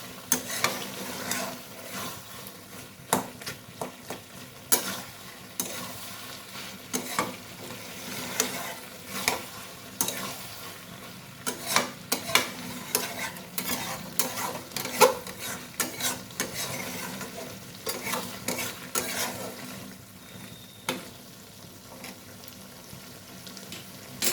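Vegetables with dried fish being stirred in a frying pan, a steady close sizzle broken by frequent scraping clicks of the spatula throughout, no voices.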